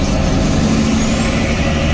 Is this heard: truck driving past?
yes